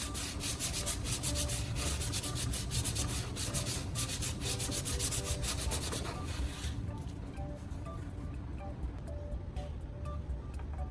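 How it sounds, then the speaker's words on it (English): Steady abrasive rubbing of sanding plastic smooth, continuous and close, with the scratchy texture thinning out partway through. "I'm sanding until there are no bumps or rough patches, making it perfectly smooth to the touch."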